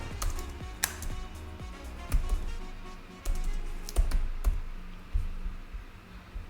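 Keys clatter on a computer keyboard in an irregular run of close, crisp taps with short pauses between bursts, heard alone at moderate volume.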